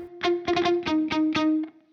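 D: Electric guitar plays the fourth line of a riff, a run of about seven quick, bright picked notes over a ringing open-string drone, close and clear, ending in a short fading tail.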